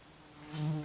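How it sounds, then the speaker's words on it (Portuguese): A housefly buzzes close by, a steady droning hum that swells louder toward the end, heard alone with no talking. "Desculpem lá a mosca."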